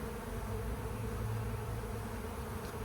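A swarm of honeybees buzzing as a dense, continuous drone that stays close and steady throughout, with no speech.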